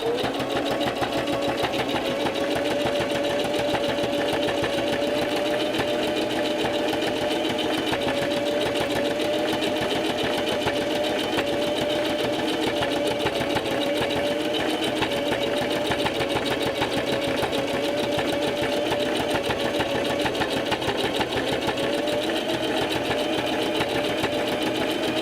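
A sewing machine stitches puppet fabric in a fast, steady whirring run that keeps going nonstop at an even, close-up level.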